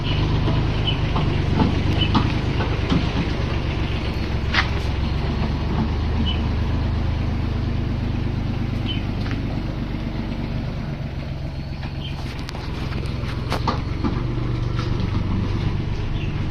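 A tractor engine rumbles steadily and loudly throughout, a continuous low drone with faint clatter over it.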